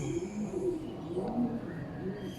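A racing pigeon coos softly in a loft as birds arrive from a long-distance derby race, a few low rolling coos close by against quiet background.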